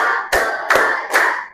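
Three sharp, loud unison claps from a group playing a clapping game in a classroom, evenly spaced, with a sustained hum of children's voices underneath.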